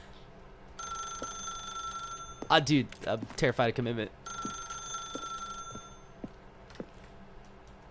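A telephone in the video game The Stanley Parable rings with repeated electronic bell bursts, paused while someone talks briefly over it, then resumes ringing at moderate level until fading near the end.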